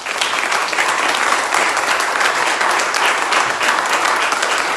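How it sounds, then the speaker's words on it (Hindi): Church congregation applauding during a Good Friday service, a dense, steady wash of many hands clapping at once, loud and sustained throughout with no pauses. "एक बार यीशु के लिए ताली बजाएं"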